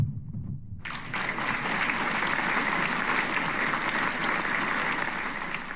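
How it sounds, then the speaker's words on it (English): An audience breaks into hand clapping after a quiet start, sustained dense applause that stays steady and fairly loud, no speech over it. "And a hand clap."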